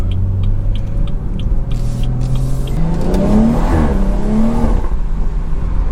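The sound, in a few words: BMW 340i B58 engine revving with exhaust pops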